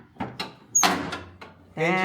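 A squeaky original-equipment door on a 25-year-old car creaks open in a loud, harmonic squeal, with a shorter creak as it ends, mixed in with other thumps and handling noises.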